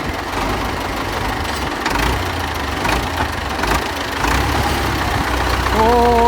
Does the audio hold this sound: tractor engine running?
yes